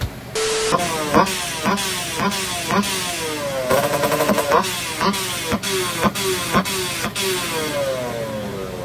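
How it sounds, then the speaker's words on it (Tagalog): A Serpico PDK R1 drag motorcycle engine roars loudly and continuously, with repeated sharp rev surges and shifting whining tones, close and harsh throughout. "ang motor na yan ay Serpico PDK R1"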